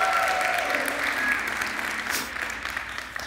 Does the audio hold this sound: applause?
yes